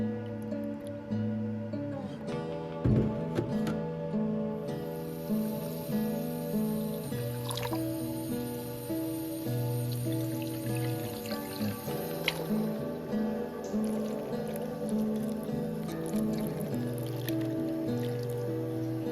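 Milk and water pour and splash into a bowl holding sourdough starter, with occasional drips and squishy sounds, set against soft tonal background music.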